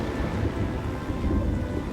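Thunder from a lightning storm, a deep continuous rumble with rain-like hiss, dense and steady for the whole stretch.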